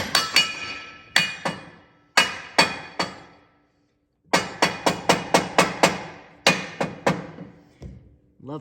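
Repeated sharp metallic hammer taps while installing new torque rods on a Peterbilt 362 cabover truck, ringing close and loud in quick groups of two to six strikes separated by short pauses.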